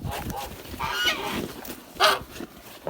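A goose honks close by in a short burst of loud, harsh calls, with one sharp honk standing out near the end, while being weighed.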